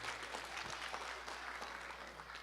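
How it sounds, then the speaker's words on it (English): Wedding guests at a walima reception give a dense, continuous round of applause for the couple, a steady wash of many hands clapping with a faint low hum underneath. "can we all get like a round of applause for Kaleem and Hira?"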